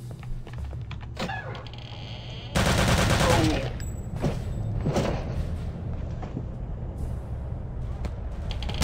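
Machine gun fire in Return To Castle Wolfenstein, a loud, dense burst lasting about a second amid scattered shots and mechanical clatter, with someone speaking over parts of it.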